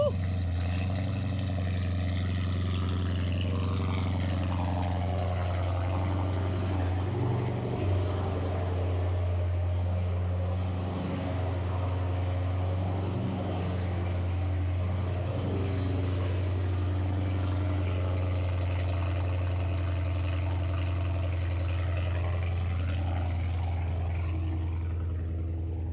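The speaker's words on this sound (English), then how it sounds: "Maybe we should give you a cold start." A tuned 800hp Honda Civic fires up from cold on a roughly 40-degree day, settling into a loud, steady low idle that drones on throughout with slight surges.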